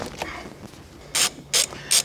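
Ratchet wrench on a 17 mm steering wheel nut during a carbon steering wheel install on a Toyota GR86, giving a few faint clicks and then three sharp, loud ratcheting bursts spaced about a third of a second apart.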